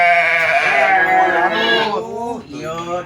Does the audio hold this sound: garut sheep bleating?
yes